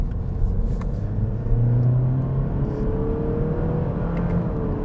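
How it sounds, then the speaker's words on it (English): A 2022 Honda Civic Hatchback Sport with a CVT transmission accelerates, heard from inside as a steady engine drone and whir with a rising tone that holds fairly loud throughout. "Let's see how well this CVT transmission handles the acceleration."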